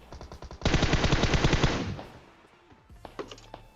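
An M4 rifle in PUBG Mobile lets off a loud, rapid automatic burst lasting over a second, then fades out, followed by a few scattered fainter shots in the distance.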